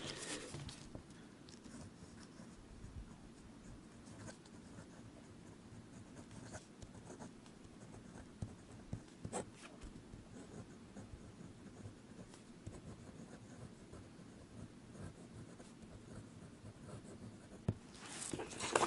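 A pen scratches across paper, soft, close and continuous strokes with small taps and pauses over about nineteen seconds, with no voices.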